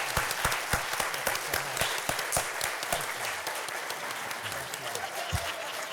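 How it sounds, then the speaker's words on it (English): An audience at a business event bursts into applause, a dense patter of many hands clapping continuously at moderate distance, with a few sharper individual claps standing out and a faint voice underneath. "Let's give him a round of applause"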